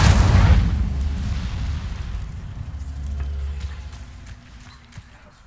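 A single loud whooshing burst of flame from an Incendio spell in Hogwarts Legacy, booming at the start then rumbling and fading over several seconds.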